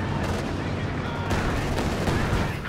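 A Katyusha rocket barrage from the video game Company of Heroes 2 strikes at close range. Dense, continuous rumbling blasts and crackling impacts fill the whole stretch, loud and unbroken.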